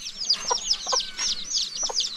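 A hen clucks repeatedly in a rainy rural Colombian farmyard, short clucks spaced about every half second alongside high chirping from small chicks, fairly close and with no talk over it.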